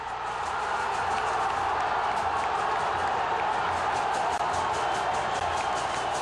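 Guarani football fans celebrate a goal at a home stadium, a dense, steady roar of crowd cheering and clapping that fills the air continuously at full volume.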